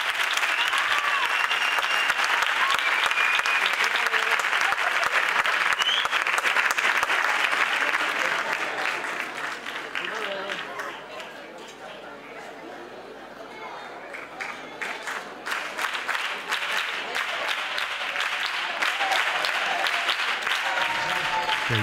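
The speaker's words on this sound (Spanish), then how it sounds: "¡Fuerte aplauso!" A large crowd applauds warmly at the 2020 San Roque Carnival proclamation, loud and sustained, dipping briefly in the middle with some murmured voices before swelling again with renewed clapping.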